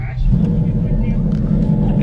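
Deep, loud rumble of a 2013-14 Ford GT500 with cams and a stock Trinity blower idling on a dyno, low and steady throughout the short stretch.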